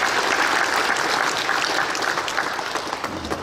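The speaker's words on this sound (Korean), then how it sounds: "큰 박수로 칭찬 주시면 감사하겠습니다" A big round of applause from a church congregation at a retired pastors' appreciation gathering, dense steady clapping filling the room throughout and easing slightly toward the end.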